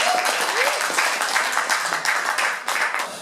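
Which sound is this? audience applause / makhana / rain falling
audience applause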